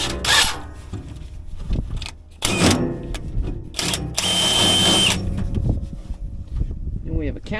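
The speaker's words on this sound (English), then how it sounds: "We have a countersink." Power drill fitted with a countersink bit boring into metal for a gooseneck toolbox chain holder, several short loud whirring bursts with pauses between them, the longest run lasting about a second.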